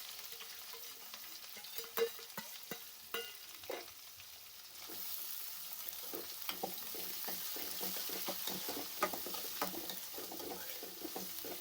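Three large onions with curry leaves and a green chilli fry in a pan with a steady sizzle and crackle, punctuated by repeated scraping stirs. The sizzle grows denser partway through, close by with no voices.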